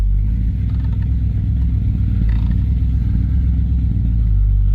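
A 1971 Dodge Polara with 31,000 original miles rolls down the road after more than 20 years off it, its brakes dragging, giving a steady, close, loud low engine drone with road rumble that continues throughout without talk.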